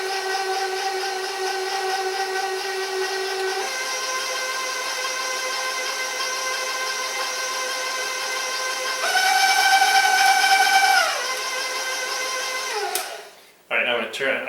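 Electric mixer whirring through blueberry coffee cake batter, a steady high-pitched motor drone that shifts speed partway and rises louder, then winds down and stops near the end.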